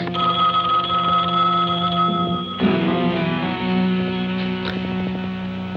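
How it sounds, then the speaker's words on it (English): An old-fashioned telephone bell rings loud and close in a 1970s film scene, a sustained metallic ring that cuts off partway through as the receiver is picked up, followed by quieter room sounds. "answer the phone."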